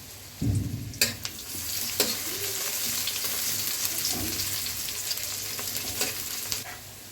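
Dried red chilies and whole cumin drop into hot oil in a pan for a cauliflower and fish curry, giving a sharp burst of sizzle that settles into continuous frying crackle, with a few clinks of a spatula.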